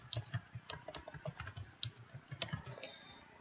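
Fingers type steadily on a computer keyboard at a desk, producing a quick, even run of close, soft key clicks with no voices.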